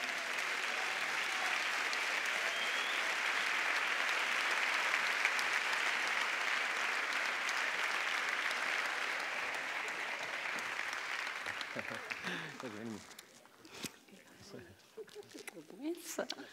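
Audience applause fills a carnival murga anniversary gala, a dense, steady roar of clapping for about twelve seconds before thinning into scattered claps with voices talking over the tail end.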